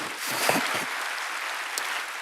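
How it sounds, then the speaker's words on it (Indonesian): A church congregation applauding during a worship service, a soft, continuous patter of many hands clapping at a fairly even level, with a few brief voice sounds mixed in. "Berikan tepuk tangan kita kepada Tuhan"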